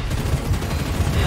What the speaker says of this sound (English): I'm just looking at explosions.